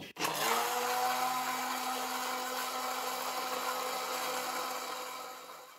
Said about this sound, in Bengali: এখন আমি ব্লেন্ড করে নিব